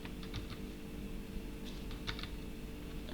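Someone types a few quick keystrokes on a computer keyboard during a programming session. The soft clicks come in small clusters over a low, steady room hum.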